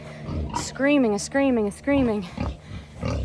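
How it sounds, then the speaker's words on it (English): Pigs and piglets on a farm squeal in three long, loud, high-pitched bursts close by, with rough grunting and scuffling between them. "And the piglets, I hear piglets screaming"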